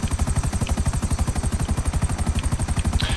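A helicopter in GTA 5 Online flies close and loud, its rotor beating in a fast, even rhythm throughout with no talk over it.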